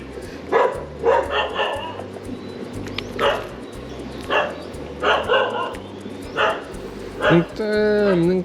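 A dog barks in short repeated bursts outdoors during a fishing trip, close by, with birds calling and a person talking over it.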